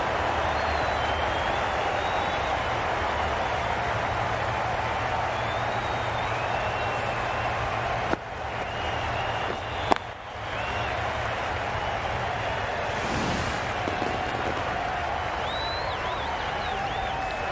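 Steady crowd applause and a murmur of cheering at a cricket match in the game Cricket 22, holding at an even level for the whole stretch, with a few brief knocks partway through.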